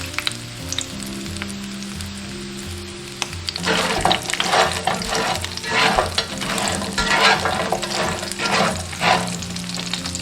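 Duck pieces, dry-fried until crisp and sprinkled with pepper salt and cumin, sizzle steadily in a pan, and after a few seconds loud scraping and stirring strokes come in a repeating rhythm over the frying.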